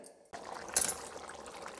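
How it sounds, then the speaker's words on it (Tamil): Water pours steadily into a container with a close, splashy gurgle, starting abruptly and continuing without pause. "இனி கொஞ்சம் தண்ணி ஊற்றலாம்."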